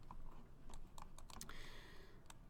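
Computer keyboard typing while drafting walls, doors and windows in a building design program: a few scattered key taps, then a quick burst of clicks and a final tap, close and fairly quiet, with no talking.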